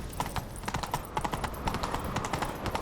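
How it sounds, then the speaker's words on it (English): Horse hooves gallop in a quick, steady clip-clop rhythm at moderate volume, with no voices over them, in the video game The Witcher 3: Wild Hunt. "Grab a horse, we'll chase him down."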